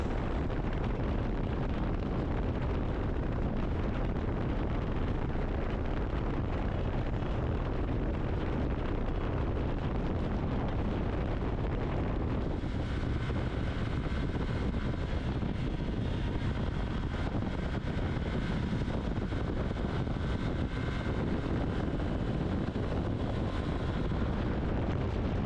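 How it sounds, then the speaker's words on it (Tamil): A motorcycle riding on the highway, with steady engine drone buried under heavy, continuous wind blast roaring across the microphone, loud and unbroken throughout. "அந்த விண்டு பிளாஸ்ட்டும் வண்டி சவுண்டையும் கொஞ்சம் ஃபீல் பண்ணுங்கள்"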